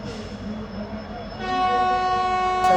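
A WDG-4 EMD diesel locomotive sounds a long, loud, steady horn at Rajkot Junction, coming in after a rumbling idle and holding to the end.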